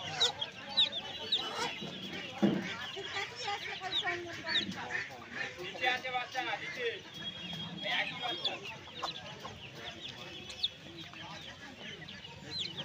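Crowds of ten-to-twelve-day-old Australian high-growth chicks at the Uluberia hen market keep up a busy, continuous chorus of thin cheeps and clucks, with faint voices in the background.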